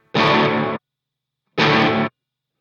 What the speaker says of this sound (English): That's a gated reverb.